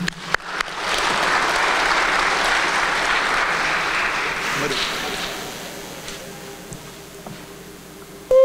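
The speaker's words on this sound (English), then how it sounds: "would you please give a round of applause to Mr. John Timothy." Audience applause at the Living Legends ceremony, a sustained burst of clapping that starts strongly and gradually tapers off over several seconds.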